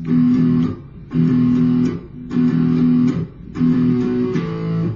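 A short guitar riff from a song repeats four times in even phrases, with clear, sustained low notes played close up and no voices.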